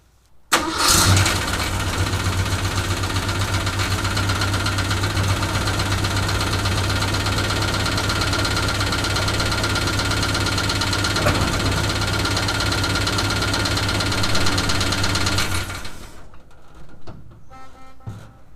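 A Ford F100 4x4 truck engine cranks and fires, then runs steadily at a loud, even idle for about fifteen seconds before shutting off, with faint rattles after.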